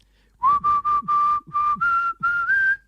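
A person whistling a song on community radio, a clear close melody of about eight sustained notes with short breaks between them and pitch rising slowly toward the end, with no other sound behind it.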